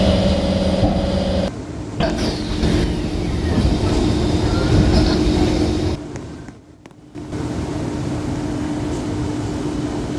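A Roblox train, a KHI BA-Series C151, rumbles steadily with rail clatter as it departs, loud and continuous, dipping briefly near the end before the rolling noise resumes.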